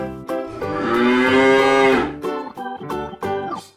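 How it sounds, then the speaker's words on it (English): A cow moos in one long, loud, drawn-out call, followed by a few shorter lowing calls, with no talk over it. "Cow."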